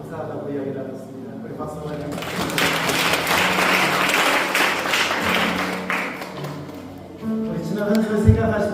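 Congregation applause during a Korean church Parents' Day service with baptisms: a broad wash of clapping swells for about four seconds in the middle, with voices and room sound before and after.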